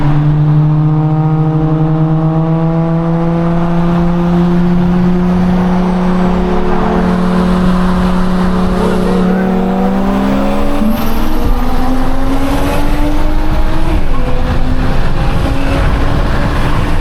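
Turbocharged BMW N54 and B58 cars racing from a 60 roll in Mexico, loud engines revving hard with rising pitch through gear shifts, a steady roaring pull that climbs again after each change, no talk.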